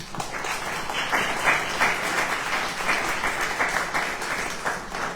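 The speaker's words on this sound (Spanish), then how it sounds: "Una bienvenida y un fuerte aplauso a todos." Steady, even applause from an audience welcoming guests at an arts event on Fernando Leal's Los danzantes de Chalma, continuous and fairly close throughout.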